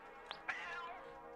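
A cat meows in the Gato Roboto video game, two short chirps followed by a longer drawn-out meow, clear and close with no talking.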